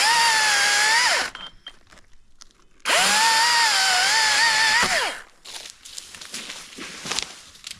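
A loud power saw cuts through a tree limb in two sustained bursts, the motor whining steadily through each cut and then dropping away, with a pause between them and rustling or falling-wood noise after the second cut.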